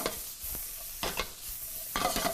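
Shrimp stir-fried with bamboo shoot, chili, red pepper and green onion in a hot pan, with a continuous close sizzle broken by three quick bursts of tossing and scraping.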